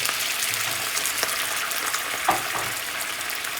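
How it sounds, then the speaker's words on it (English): Chicken wing gyoza sizzle steadily in a hot pan, a continuous close frying hiss with a few small pops and clinks, no voices. "After it's been frying for 5 minutes on both sides"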